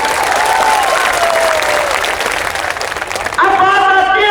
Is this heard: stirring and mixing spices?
no